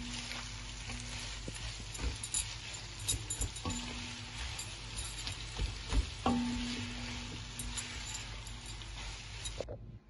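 Three onions frying in a pan for a lamb chops curry, a steady close sizzle running throughout with occasional faint clinks, then dropping away at the very end; no voices.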